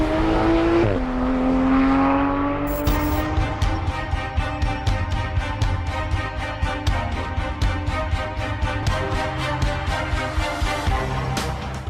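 A Porsche 911 GT3 RS on a race track revs hard, the rising engine note dropping at a gear change, then climbing again through rapid shifts and a dense, buzzing rhythm of pulses.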